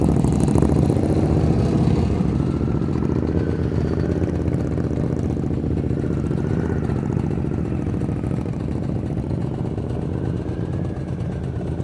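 Motorcycle engine at low speed during slow-speed riding practice, a steady close idle-level rumble with slight throttle changes and faint clatter, continuous and alone without talk.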